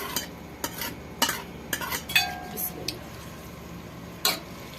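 Vegetables and sauce for chicken chow mein are stir-fried in a pan, with sharp spatula scrapes and knocks over a soft sizzle, irregular and close.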